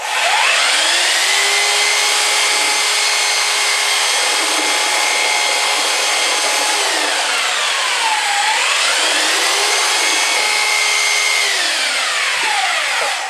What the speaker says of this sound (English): that's a proper what's the proper plaster mixing drill